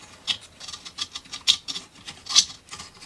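A block of paraffin wax rubbed against the end of a small kit-built hurdy-gurdy part, rhythmic close scratchy strokes in quick repeated bursts.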